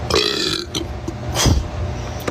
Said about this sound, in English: Try to burp.